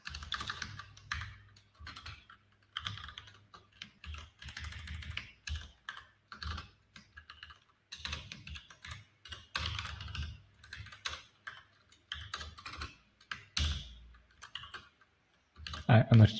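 Rapid clicking keystrokes on a computer keyboard come in bursts with short pauses, close and fairly clear, with no voices.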